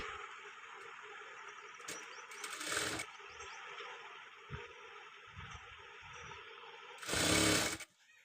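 A sewing machine stitching a katori blouse runs in two short bursts, one brief and one longer, against a quiet room hum with a few soft handling knocks in between.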